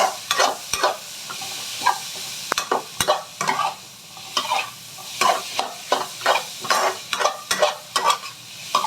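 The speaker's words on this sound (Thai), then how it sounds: "ก็ผัดนะคะทุกอย่างให้เข้ากันเลยนะคะ" Carrot and onion are stir-fried in a pan for fried rice with naem, as a spatula scrapes and clacks in a busy, uneven rhythm over a constant close sizzle.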